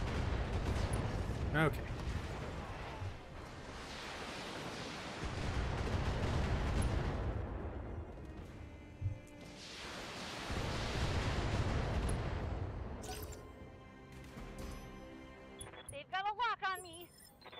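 LRM missile volleys from mechs in Battletech, two long booming barrages of rumbling launches and impacts, with someone talking over parts of it and a few sharper bursts near the end.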